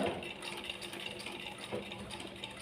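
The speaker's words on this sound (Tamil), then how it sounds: "வச்சுட்டு மெதுவாக நம்ம எவ்வளோ ஸ்லோவாக தைக்கிறோமோ தைக்கலாம்." A sewing machine stitches cloth slowly at a practice session for beginners, giving a faint, soft mechanical whir with light rattling, steady and quiet throughout.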